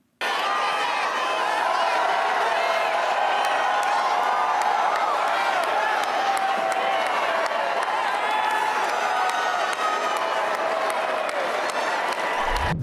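A large crowd of supporters at Capital One Arena cheers and applauds in a steady, sustained roar, with whoops rising above the dense clapping throughout.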